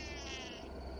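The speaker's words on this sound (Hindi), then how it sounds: "मेरी प्यारी बिल्ली, मेरे पास आओ" A cat meows angrily in one drawn-out, wavering cry that is close and loud, then trails off into quieter background.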